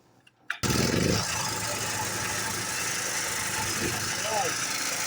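Petrol generator running on pyrolysis biofuel starts abruptly after a brief quiet moment and settles into a steady, loud engine drone, with voices talking faintly over it.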